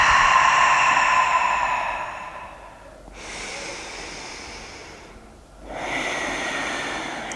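Slow yoga breaths at rest with eyes closed in prayer position, drawn in long nasal waves: a steady breath fading over about three seconds, a pause, then two further breaths, close and clear with no talking.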